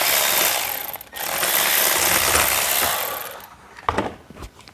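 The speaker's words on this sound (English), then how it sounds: "I'm gonna take my little 1/4" drive ratchet. I'm gonna get up here and pull this one bolt out." A 1/4-inch drive ratchet removes a bolt during crank sensor replacement on a 2013 Kia Rio: about three seconds of rapid, continuous ratcheting close by, then a few separate clicks and knocks.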